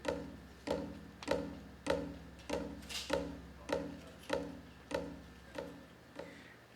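Soft, evenly spaced taiko drum taps imitating flowing water repeat in a steady pulse, about eleven muted hits with a light wooden tick, played alone without voices, live in Hawaii.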